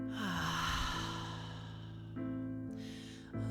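Slow, deep breaths drawn during a guided rest and relaxation session, a long audible sigh-like exhale heard close and alone over a sustained musical drone.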